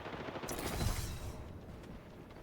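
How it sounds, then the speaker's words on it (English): In a video game, the Knuckle Cluster weapon fires a short, rattling burst of rapid shots lasting about a second, close and loud, then trails off into a quieter background. "Knuckle cluster's firing."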